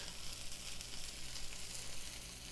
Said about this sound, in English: So while these are sauteing